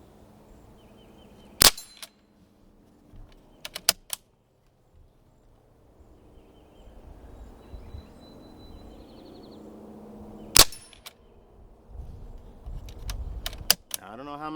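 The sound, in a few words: Ruger 10/22 .177 pellet rifle shots hitting the target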